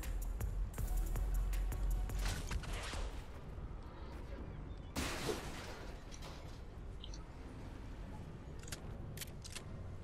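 Gunfire from a fight in Fortnite Battle Royale: scattered sharp shots and bursts over busy game noise and a low rumble, with a louder burst near the middle and distant pops later.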